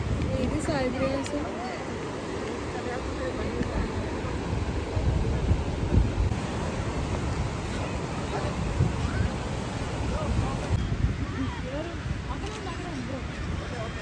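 Steady wind and surf at a beach in Vizag, a continuous broadband roar with wind buffeting the microphone and faint distant voices in the background.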